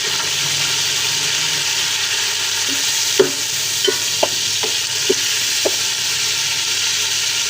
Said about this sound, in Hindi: इसको अच्छी तरीके से मिक्स करते हैं टमाटरों को